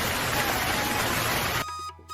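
Steady broadband hiss of rain in a cartoon, loud and even from the start, breaking off abruptly near the end into a quieter tonal sound.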